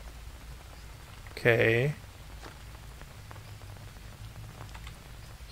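Rain falls in the jungle survival game Green Hell, a soft continuous patter in the background while a voice speaks briefly over it.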